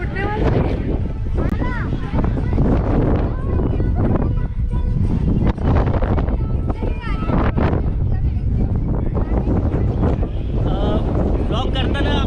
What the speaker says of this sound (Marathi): वारा एकदम जोराचा सुटला आहे